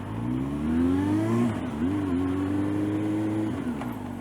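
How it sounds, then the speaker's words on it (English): A learner driver's car accelerates in second gear at low speed on a practice course, the engine note rising steadily and holding a sustained drone, close and fairly loud, with no talking. "I need to get into second. I need to get about 25 kilometers an hour."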